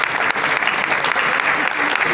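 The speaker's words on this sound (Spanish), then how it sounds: "El aplauso para ellos." Audience applause at the Premios Romeo Gavioli 2019 awards ceremony, a dense, steady wash of clapping from a large crowd that holds loud and even for about two seconds, with a faint voice showing through.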